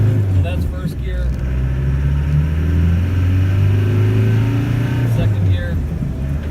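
A 1993 Land Rover Defender 110 with the 200tdi diesel pulling away in first gear, heard from inside the cab as a loud, steady low engine drone that climbs gently in pitch.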